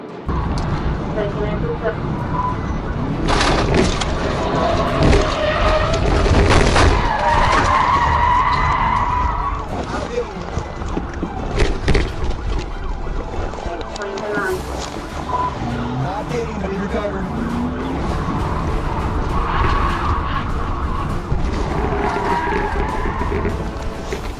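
A black Chevrolet Tahoe driven recklessly in a police chase on a highway, with repeated loud tire skids and squeals over engine noise while a voice narrates throughout.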